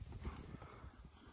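Hooves of a quick-footed horse offered for sale as an ulak (kokpar) mount clip-clop in a fast, close, steady patter, no talk over them.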